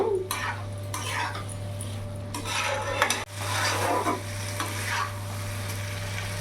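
A spoon stirs mourola fish with spices in a sizzling pan, bursts of frying hiss broken by scraping and clinking against the pan, close and uneven with a brief dip midway, no one speaking.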